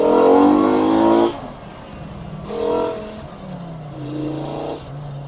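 Mk2 Volkswagen GTI with a swapped five-cylinder engine accelerating hard, a loud engine roar for just over a second, then a brief lull at the shift to third and a second, softer rise in revs.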